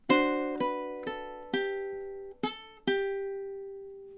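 A ukulele plays measure 8 of a song: six plucked chords and notes in even time, each ringing out and fading before the next, close and clear with no talking.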